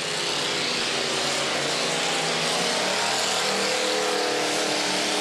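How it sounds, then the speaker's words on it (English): Big station wagons racing in a destruction derby, a constant roar of engines heard at a distance as a broad, unbroken wash of motor noise with no clear impacts. "Both of them driving pretty good, too, with those big station wagons."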